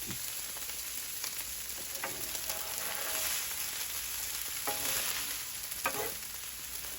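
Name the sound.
stirring and separating pork fried rice in pan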